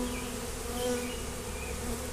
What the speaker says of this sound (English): I still got bees all over the place.